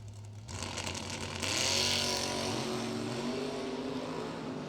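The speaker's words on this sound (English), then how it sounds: "You hear that throttle stop for Giordano get activated as soon as it launches" A Super Gas Corvette launches off the line at a drag strip, its loud engine roar rising sharply with a throttle stop engaging, sustained and steady near the track.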